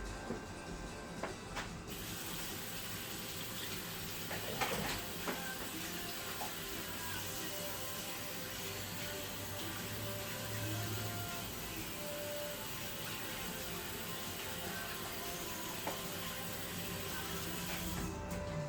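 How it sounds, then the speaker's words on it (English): Steady broadband rush of tap water pouring into a kitchen sink during handwashing, continuous and fairly close for nearly the whole stretch, with faint clatters and brief interruptions at the start and end. "So before I put this in the oven, I'm gonna wash my hands."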